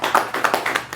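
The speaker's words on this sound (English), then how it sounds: "We gotta clap it up." Short burst of audience clapping welcoming a guest, a few distinct close hand claps in an uneven rhythm over about a second.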